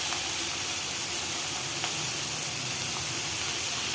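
Green chillies and garlic frying together in a pan for a mashed bhorta dish, a steady, close sizzle and hiss that holds at an even level throughout with a few faint clicks and no talking.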